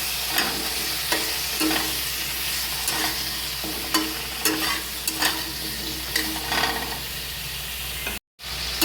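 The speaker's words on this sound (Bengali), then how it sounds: "এবার ভালো করে সবজিটাকে কষিয়ে নেব।" Ridge gourd and pumpkin stir-fried in oil with spices and Kashmiri chilli powder, a continuous close sizzle punctuated by regular scraping stirs of the spatula, with a brief cut near the end.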